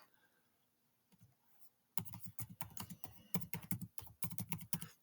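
Keys clatter on a computer keyboard in a quiet room, with a couple of faint taps followed by a steady burst of close, rapid typing.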